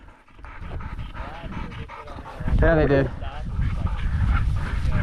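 Hunting dogs pant heavily and whimper close by during a windy public-land pheasant hunt in Nebraska, with a brief burst of excited whining and steady wind noise under a voice.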